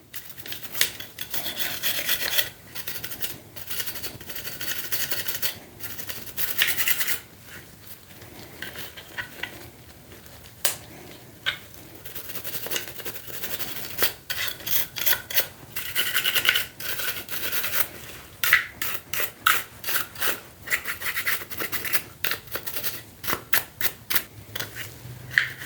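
Brisk scrubbing and rasping as a cloth-wrapped brush works over Glock 43X handgun parts, rapid irregular strokes close to the microphone with short pauses between bursts.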